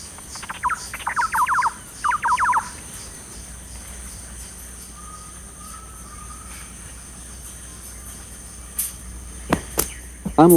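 Bird calls in Peru's Manu forest, where scarlet and blue-and-yellow macaws live, come as a quick burst of repeated chirping calls in the first seconds, a short faint call mid-way, and a few sharp cries near the end.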